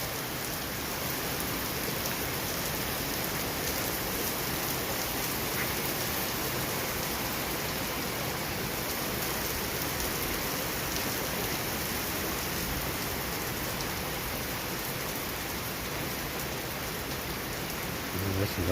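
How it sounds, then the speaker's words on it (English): Heavy rain pours steadily and loudly for the whole stretch, a dense close wash of drops on surfaces with no voices and no break in intensity. "You get a nice heavy rain like this too."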